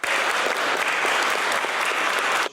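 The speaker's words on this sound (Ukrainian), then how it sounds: "Їх вітали гучними оплесками." Loud, dense applause fills a hall at Lviv City Council as the city's best street sweepers are greeted, a steady wash of many clapping hands, close and continuous for a couple of seconds before cutting off.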